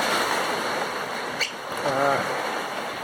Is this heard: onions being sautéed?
no